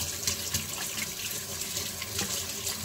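A kitchen tap runs steadily into a sink close by, a constant splashing hiss of flowing water with no talk over it.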